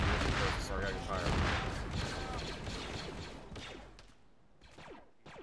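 Heavy rounds fire at a tower in the video game Arma 3, a loud dense burst of booming gunfire that fades and thins into scattered shots.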